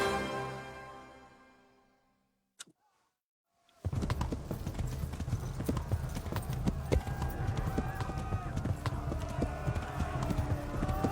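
Horse hooves galloping in Kingdom Come video game, a steady rapid clip-clop that starts abruptly after a fading tone and a short quiet gap, close and continuous.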